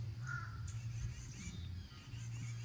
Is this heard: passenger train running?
no